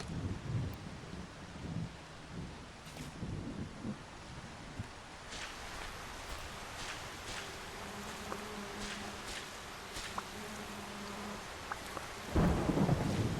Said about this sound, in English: In your house you are protected from thunderstorms.